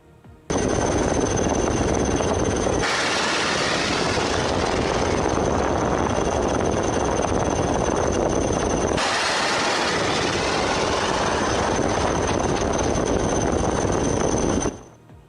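A helicopter launching an anti-ship missile gives a loud, dense roar that cuts in abruptly, shifts character partway through and ends sharply, with a steady high whine running through it and no speech.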